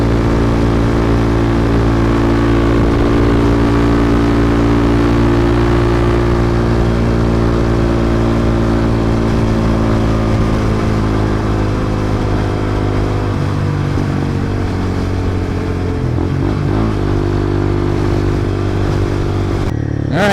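A Honda CB300F scrambler motorcycle cruising at speed, its engine droning steadily with a strong low rumble and constant wind buffeting throughout, a slight dip in pitch near the middle.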